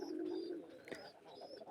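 Indigenous domestic pigeons giving a soft, low coo, faint and close, followed by quieter murmuring sounds in a calm setting.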